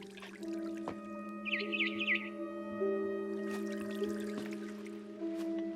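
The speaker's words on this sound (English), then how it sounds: "Then I heard chirping outside my window." A brief burst of small bird chirps from a video game rises over a steady electronic hum and drone, with faint drips and clicks scattered through the background.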